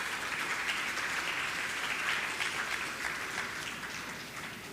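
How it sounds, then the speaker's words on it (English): Audience applause for Ms. Julieta Paris at a primary school graduation ceremony, a dense, continuous patter of many hands that is fairly faint and slowly fades over nearly five seconds. "Kindly give her a round of applause."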